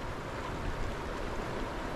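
Fast-moving current of the Boise River rushes steadily, a continuous broadband wash of water with no breaks, close and even in level throughout.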